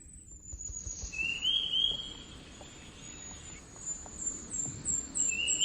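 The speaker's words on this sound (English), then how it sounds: "let's just listen to birds." Thin, high bird whistles and chirps, some sweeping downward, scattered over a quiet rustling background, moderately faint and a little distant.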